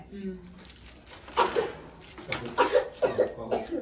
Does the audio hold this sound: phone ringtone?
no